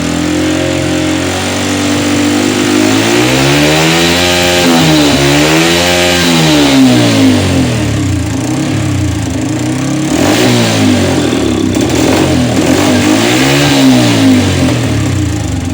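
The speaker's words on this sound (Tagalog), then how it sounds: "So susubukan ko siyang i-high rev." A small engine is revved hard toward high RPM while being troubleshot for cutting out at high revs, its pitch rising and falling in repeated surges, loud and close, with an uneven, sputtering edge as it labors.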